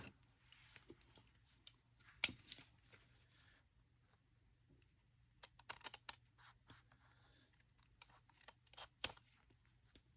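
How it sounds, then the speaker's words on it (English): Scissors snip through a small piece of paper for a handmade Mexican-style journal: a few quiet, sharp crisp cuts spread out in a near, faint and otherwise silent setting. "let's cut a little chunk."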